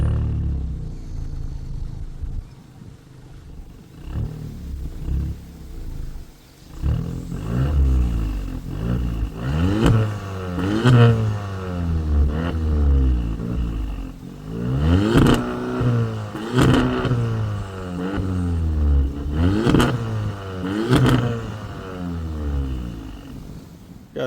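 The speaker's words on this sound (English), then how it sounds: "it's basically stock exhaust after that, and it's got just a res delete. So yeah, I'll show you how it sounds." A stock-exhaust Audi A3 fitted with an aftermarket intake and resonator delete, revved repeatedly while stationary, each rise building into a loud rasping peak and falling back toward idle, heard alone without talk.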